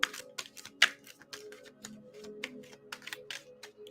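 Tarot cards being shuffled by hand close up, making a quick series of crisp flicks and sharp snaps, with one louder riffle standing out over a quiet background.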